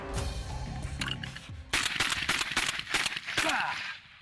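A handgun is fired from the hip with two hands, a rapid string of sharp, loud shots in quick succession at close range, after brief muffled activity.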